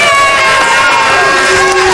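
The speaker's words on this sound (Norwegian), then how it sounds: "Applaus, det blir 30 poeng til rødt lag." A TV game-show studio audience cheers and claps loudly for a Norwegian team challenge, a dense wall of crowd noise holding steady for the whole two seconds.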